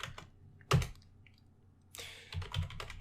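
Keys clack on a computer keyboard in short bursts of typing, a couple of sharp isolated strikes followed by a quicker run of keystrokes, close and fairly quiet with no talk.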